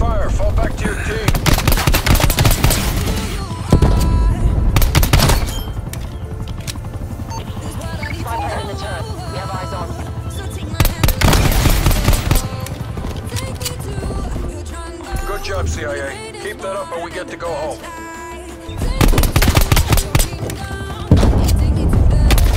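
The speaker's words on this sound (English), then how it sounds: "You're under fire. Find your protection detail. You're taking fire." Rapid automatic gunfire in Black Ops Cold War gameplay, loud and close, in long sustained bursts with brief pauses, mixed with game voice callouts.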